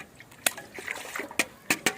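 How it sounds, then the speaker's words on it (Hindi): Water with sugar being stirred in a bucket, a few sharp splashes and small trickling sloshes at close range, loud and irregular with short pauses. "ये देखें पानी जो है चीनी मिक्स करता हूँ और बनाता हूँ पानी"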